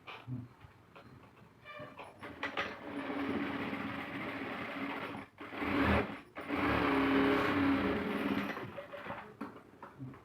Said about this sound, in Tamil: இங்கே ஒரு படிமான தையல் போடுங்க